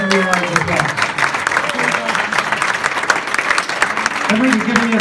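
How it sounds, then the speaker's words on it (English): Audience applause fills the room, a dense and steady wash of clapping at close range that lasts throughout, with voices talking underneath. "Would you please give Henry a round of applause?"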